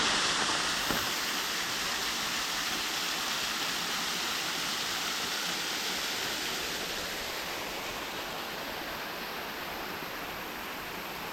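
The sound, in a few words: waterfall at Mangalam falls, Pachamalai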